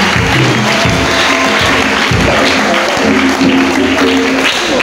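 A large audience at a Catholic youth day gathering claps loudly and steadily, dense sustained applause filling the whole moment.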